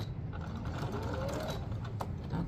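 A sewing machine runs a short back stitch while sewing a Simplicity 9136 pattern, its mechanism whirring and ticking in a quiet, steady rhythm with a faint click near the end.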